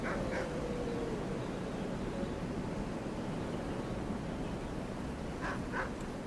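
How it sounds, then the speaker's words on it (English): A dog barks in Skyrim, a few short barks near the start and again near the end over a steady hiss of game ambience. "I actually can't stand how much they have the dog barking."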